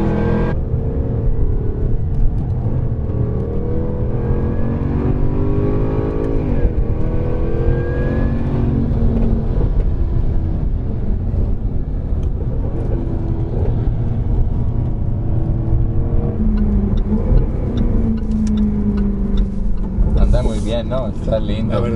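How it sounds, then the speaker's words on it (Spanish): A 2016 Jaguar F-Type R with all-wheel drive, its exhaust rising in a loud, rich engine roar as it accelerates through slow corners, with rising pitch sweeps throughout and someone talking over it. "Ese exhaust es fabuloso, ¿eh? Suena lindísimo, ¿no?"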